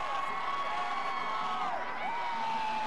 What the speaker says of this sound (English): Enjoy the crowd. The noise level here will be a factor throughout the day.